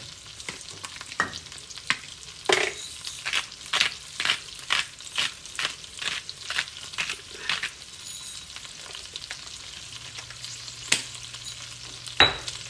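Chicken, asparagus and peppers sauté in a pan, a steady sizzle broken by rhythmic, regular scraping stirs that repeat close-up about once a second, then a louder clatter near the end.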